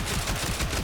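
Rapid repeated shots from the Stug gun in Warframe hitting an Eximus enemy, a fast, even stream of pulses in a brief, loud burst.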